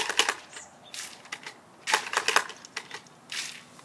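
Squirt gun being pumped to build pressure, giving a run of quick mechanical clicks and strokes in irregular bursts, fairly close and moderately quiet, with no talking.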